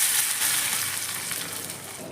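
Hot tempering oil poured over saag ghonto of safflower leaves and besan hisses in a bright, steady sizzle that slowly fades as it settles.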